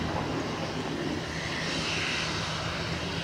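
An airliner's engines hum steadily at Dublin Airport as it lines up on runway 10 right, a constant broadband roar heard from some distance without talk.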